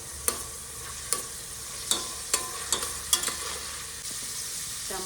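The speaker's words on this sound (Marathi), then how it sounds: "सुरुवातीला मी थोडासा कांदा परतून घेणार आहे" Chopped onion frying in oil in a pan, a low steady sizzle broken by several sharp scrapes and taps of a spatula stirring against the pan, close up with no talking.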